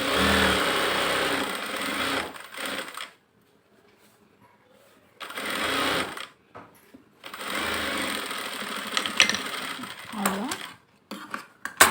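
A sewing machine stitches a blouse sleeve in three bursts of fast whirring, separated by near-silent pauses, with a brief spoken word near the end.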